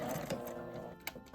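A sewing machine stitches fabric for an insulated lunch bag in a short, close, mechanical whir, with a few sharp clicks near the end as it stops.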